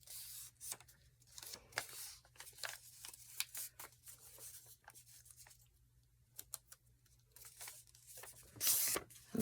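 Paper is snipped and torn while finishing an envelope journal, a close, quiet series of short crisp cuts and crinkles with pauses between them and a louder rustle near the end.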